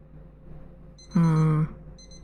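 Alarm clock in a digital dating simulator game rings as a single half-second electronic buzz, loud and close, set against a quiet background hum with faint high beeps around it.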